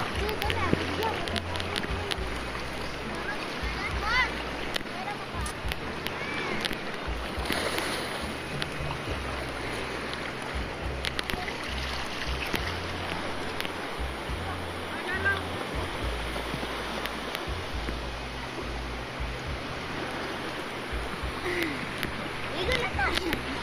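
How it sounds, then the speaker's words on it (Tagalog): Continuous rushing water and surf of large sea waves at a Camiguin beach, a steady wash of waves close by with low rumbling, sustained for the whole stretch. "Masyadong malalaki yung alon."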